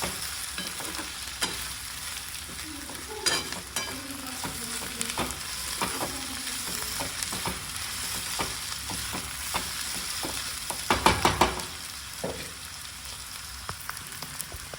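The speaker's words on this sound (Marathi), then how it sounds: "भाज्या छान परतवून घेऊयात त्या थोड्याशा कच्च्या ठेवायच्यात" Mixed vegetables being sautéed in a pan for fried rice: a steady frying hiss broken by frequent spatula scrapes and taps against the pan, close and continuous, with no speech.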